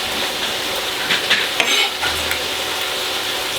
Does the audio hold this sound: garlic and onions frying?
yes